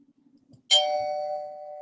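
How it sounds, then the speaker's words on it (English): A doorbell gives a single bright electronic ding that rings on with a steady sustained tone, close and clear against near silence. "You might get a double ding dong."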